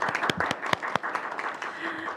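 Brief burst of audience applause opening a policy forum on migrant health rights in Gwangju, sharp claps that thin out over a couple of seconds under a speaker's voice.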